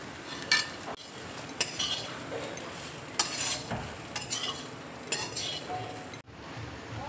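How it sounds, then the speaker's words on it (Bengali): Fried paneer is tipped into a hot pan and stirred, with a soft sizzle under repeated scraping and clinking of a spoon against the pan in irregular bursts. "এবার আমি ভাজা পনির দেখো দিয়ে দিচ্ছি।"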